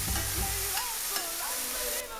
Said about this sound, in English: Pour the onion that you intend to use or the amount of onion you can tolerate into the pan